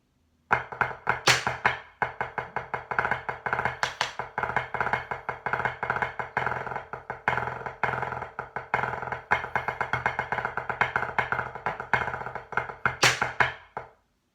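A close, solo snare drum plays a long stretch of a drum break, with rapid, tightly packed strokes in driving rhythmic patterns and occasional louder accents, ending on a final stroke.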